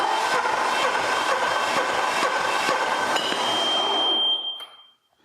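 A Hatz diesel engine is cranked over, giving a steady, loud mechanical churn for about four seconds that then stops abruptly and fades to near silence.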